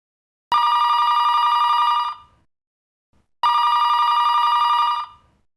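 Two loud, bright telephone bell rings, each lasting about one and a half seconds with a rapid trilling buzz, separated by a short silent gap, heard close up in an office.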